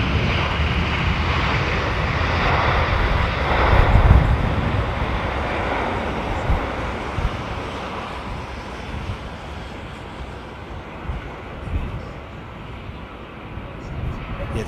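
A Boeing airliner at London Heathrow Airport rumbles steadily in the distance, a broad continuous engine roar that swells slightly and then holds, with people talking over it.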